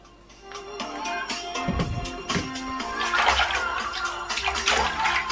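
Water moves and splashes in a bathtub during a bath, with steady sloshing and dripping punctuated by a low thump and brighter splashes toward the end, close and moderately loud with no talking.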